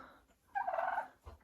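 One of two turkeys lets out a single brief gobble, a quick warbling rattle up close, then quiet farmyard background with a soft thump.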